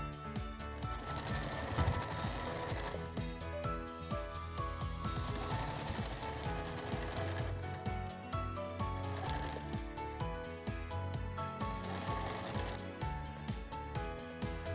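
A sewing machine basts fabric for a table runner, running in a steady, fast mechanical chatter with rhythmic stitching clicks that holds close and constant throughout, with brief pauses and restarts and no voices.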